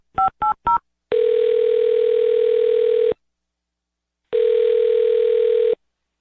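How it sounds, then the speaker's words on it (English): Phone dialing during a call: three short dial-pad tones in quick succession, then two long, loud, steady ringback tones separated by silence, heard alone with no talk. "I'm going to dial his phone number right now"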